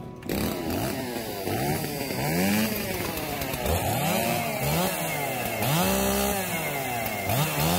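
Several 4 cubic inch racing chainsaws rev up together on a competition stage, engines revving and falling in repeated loud, rising-and-falling whines that overlap continuously.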